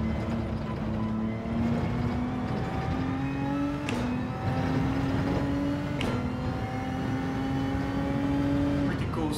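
Racing car engine in Gran Turismo 7 held at a steady drone, with clear pitch drops at about four and six seconds as gears change, then climbing again; loud and continuous, with faint speech underneath.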